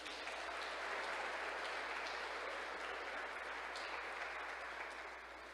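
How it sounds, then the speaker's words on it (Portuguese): Church congregation applauding during a sermon, a broad, continuous roar of clapping heard from a distance, holding steady before tapering slightly at the end. "Quantos ousados podem aplaudir o Senhor Jesus?"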